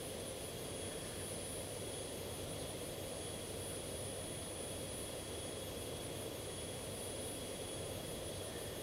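A Cirrus-style SF-50 single-engine jet cruising in the X-Plane 11 flight simulator, its jet engine a steady, unbroken roar with a thin high whine running across it, no voices present.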